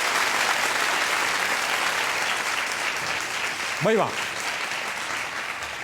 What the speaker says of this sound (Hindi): तालियां बजाएं इस बात पे